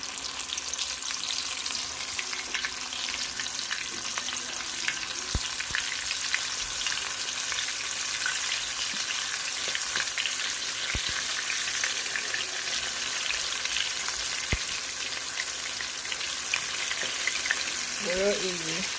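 Mustard-coated, flour-dredged chicken pieces fry in hot oil with a loud, dense, continuous crackling sizzle and occasional sharper pops, close up, with a voice talking briefly now and then.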